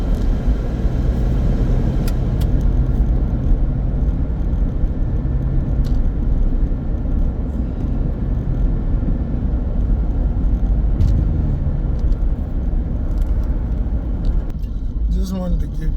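A car rolls steadily along a road, a continuous low engine and tire rumble close up and constant throughout, with faint rattles.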